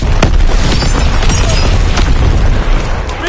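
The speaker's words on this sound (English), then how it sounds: "Incoming enemy artillery." Heavy artillery barrage in the World War II shooter Call of Duty WWII: loud, continuous booming and rumbling blasts overlapping with no pause, with a sharp crack near the start.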